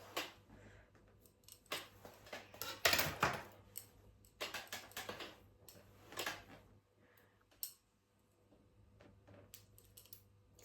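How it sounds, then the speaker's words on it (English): Scissors snip close by and quietly through hair during a home haircut, a series of short crisp cuts spaced irregularly across the moment. "So, I'm just going to go with the first snip in the middle first."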